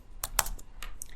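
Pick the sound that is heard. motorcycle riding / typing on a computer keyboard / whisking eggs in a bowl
typing on a computer keyboard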